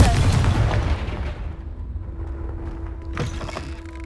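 A Confringo fire spell explodes in the video game Hogwarts Legacy, a loud, deep booming burst up front that rumbles and fades, followed by a softer whoosh and a sustained tone.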